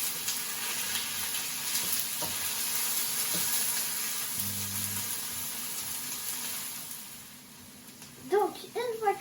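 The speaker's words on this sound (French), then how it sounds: "Donc l'huile est chaude, on va mettre les oignons. Et après, on va remuer." Onions hit hot oil for ratatouille and sizzle with a steady crackling hiss, stirred now and then, fading toward the end as brief child-like voices break in.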